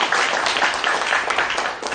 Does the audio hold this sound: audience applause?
yes